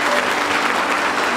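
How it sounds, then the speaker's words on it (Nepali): A wedding crowd claps loudly for the groom and his friend, a dense, even burst of applause close up from start to finish. "दुलहा र अनि हाम्रो दुलहाको साथी दुईजनाको लागि जोरदार ताली बजाउँदैछौँ"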